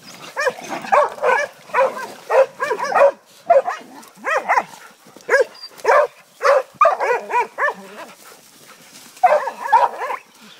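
Hunting dogs bark and yip in close, frantic bursts while catching a hog, with squeals mixed in and short pauses between flurries of barking.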